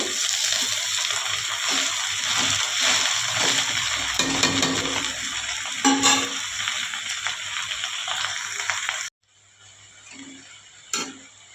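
A spatula stirs drumstick leaves (murungai keerai) in a hot pan. The sizzle hisses steadily under repeated scraping strokes, then quiets sharply near the end, leaving a few soft clinks.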